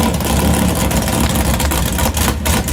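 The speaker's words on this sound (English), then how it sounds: "Now that is how a V8 should sound" Drag car with a huge cammed V8 idling loud and close, a choppy, lumpy rumble with uneven pulses and brief dips, no voices over it.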